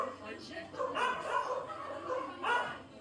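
Dogs at an animal shelter bark in a few short, moderately loud bursts, with yips and whimpers mixed in, over a steady background hum.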